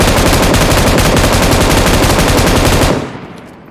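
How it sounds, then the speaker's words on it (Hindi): An M249 machine gun in a video game fires one long, loud, unbroken burst of rapid shots at close range, then cuts off and leaves a short fading tail. "M249"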